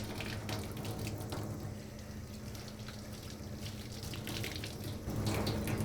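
Water running steadily from a tap in a basement laundry room while costume laundry is rinsed, a continuous splashing flow at moderate volume with no voices.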